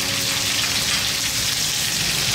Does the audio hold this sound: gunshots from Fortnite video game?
no